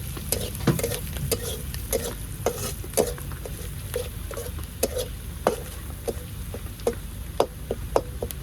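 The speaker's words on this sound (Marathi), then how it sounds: "थोडा वेळ फ्राय होऊन घेऊ. आता तर मसाला टाकून घेऊ." Crab curry with masala frying in a pan and being stirred, a steady sizzle with repeated scraping clicks of the spoon at a moderate, irregular rhythm, close and alone.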